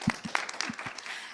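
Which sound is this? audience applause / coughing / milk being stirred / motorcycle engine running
audience applause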